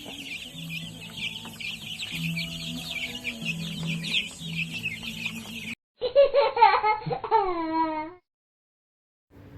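Free-range chickens cluck and chirp continuously in a busy flock, with a burst of higher, whining calls near the end before it cuts to silence.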